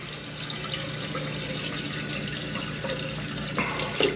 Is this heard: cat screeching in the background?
no